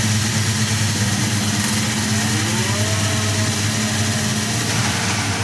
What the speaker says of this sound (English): we start the engine